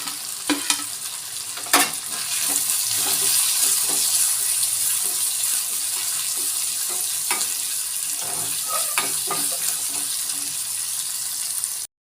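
Onions frying in a pan with ginger-garlic paste, a steady close sizzle with occasional sharp clinks and scrapes of a stirring spoon throughout.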